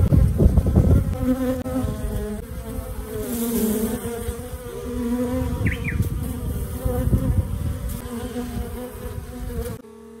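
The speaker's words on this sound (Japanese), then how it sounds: "ミツバチは花の蜜集めに大忙しです" Japanese honeybees collecting nectar from flowers buzz steadily and close by, several overlapping drones holding for about ten seconds before stopping abruptly, with no talk.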